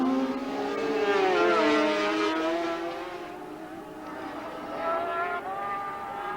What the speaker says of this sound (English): It seems that Vic Jefford's engine is just so quick down that back straight